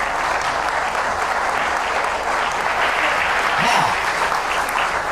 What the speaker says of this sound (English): A round of applause for our candidates.